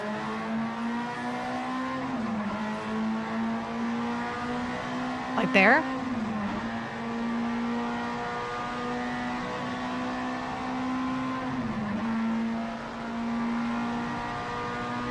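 A car engine holds a steady drone, dipping in pitch at each gear change, with a brief sharp squeal partway through; voices talk over it throughout.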